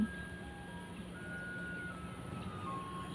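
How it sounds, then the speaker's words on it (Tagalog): A garbage truck idles near a highway with its reversing alarm beeping over a low, steady engine drone. "Tumutunog na yung truck ng basura, guys."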